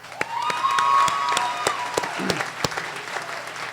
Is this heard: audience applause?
yes